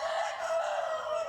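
A rooster crows once, loud and close, a single sustained call at a fighting-cock breeding farm in Reynosa, Tamaulipas.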